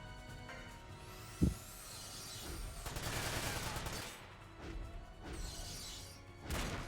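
Shotgun blasts and crashing impacts in the mech combat game Front Mission 5, a sharp loud burst near the start, then rumbling gunfire and debris through the middle, with another hit at the end.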